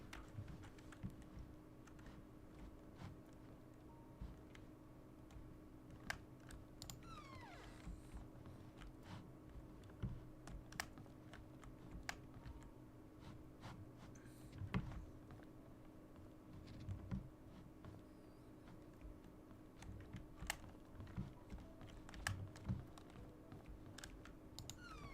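Keys clack steadily on a typewriter in the video game The Painscreek Killings, a quiet, irregular patter of taps over a low constant hum, continuing throughout.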